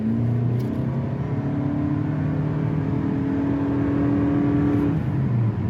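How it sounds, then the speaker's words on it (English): A 2025 Toyota Camry XSE hybrid engine with eCVT holds a steady high-revving drone with a rising tone, then the pitch drops away as it settles toward idle. "it just high revs and it stays high revving for as much power as you need"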